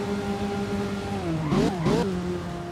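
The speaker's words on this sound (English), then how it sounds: "Bro, those downshifts sound so good." Racing car engine in the game Driving Empire held at a steady drone, then two quick sharp downshifts with revving blips near the end, loud and close with no talking.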